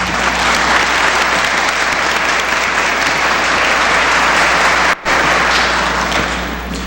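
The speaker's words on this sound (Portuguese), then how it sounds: "Vamos envolvê-lo nos nossos aplausos, nas nossas melhores vibrações." Steady, dense applause from a large audience fills the whole stretch, loud and unbroken apart from one very brief dropout near the end.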